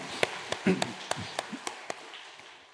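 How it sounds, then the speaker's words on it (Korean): A church congregation at a spring early-morning prayer service claps for its leaders, sharp separate claps at an uneven, slowing pace, close and fairly loud, with murmured voices underneath. "우리 리더와 부리들을 축복하며 박수하겠습니다"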